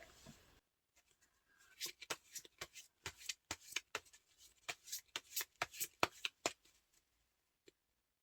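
Tarot cards being shuffled by hand in a quiet room, a rapid run of crisp riffling slaps and snaps lasting several seconds before stopping.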